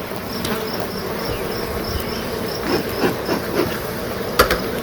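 Honey bees buzz steadily around an open hive on a hot summer day, a close continuous drone with a few soft knocks and clicks from handling the hive frames.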